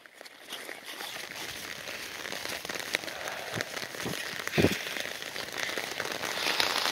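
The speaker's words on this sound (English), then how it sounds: "it is really pouring down the rain right now" Heavy rain pours down in woods near a creek, a steady, fairly soft hiss of drops on leaves and ground with occasional louder patters, no talking.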